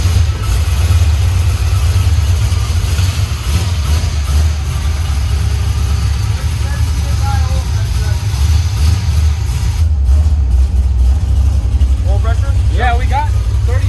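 A car engine fired up after a timing chain repair, running as a steady low idle that fills the whole stretch, with a few faint background noises late on.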